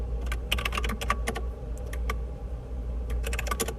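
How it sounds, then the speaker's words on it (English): Rapid bursts of typing on a computer keyboard, clustered clicks with short pauses, close and fairly clear over a steady low hum, with no talking. "we just saw a girl typing on her keyboard"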